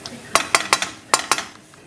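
Clattering cookware during preparation of an aubergine and pea curry: a metal lid is handled and set over a pan in several sharp clinks and knocks, close and fairly loud, with no talking.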